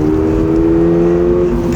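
A 2024 Subaru BRZ engine drones loud and close under acceleration, a sustained, even roar with steady tonal harmonics and no talk over it.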